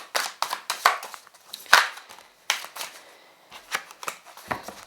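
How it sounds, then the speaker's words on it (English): Tarot cards being shuffled in quick riffling bursts and soft slaps, close by, with brief pauses between runs. "my poker shuffling is a little bad"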